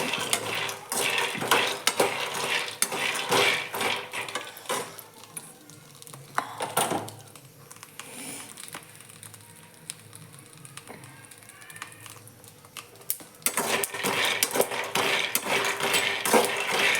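Peanuts and chillies roasting in a pan for chutney while a spoon stirs them, with continuous scraping and metallic clinking and rattling, busier at the start and end and quieter in the middle.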